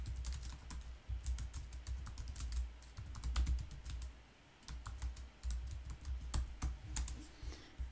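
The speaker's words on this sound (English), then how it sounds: "I've just typed in what that is" Rapid, irregular keystrokes on a computer keyboard, close and fairly quiet, with short bursts and brief pauses over a low steady room hum.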